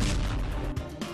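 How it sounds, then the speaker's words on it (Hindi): A bomb dropped from a quadcopter drone bursts on a Russian armored vehicle, a loud, heavy boom in the war in Ukraine, with a rumbling low-end roar and a couple of sharper secondary thuds close together, with no voices. "छठा अटैक और फिर 7वां धमाका भी हुआ"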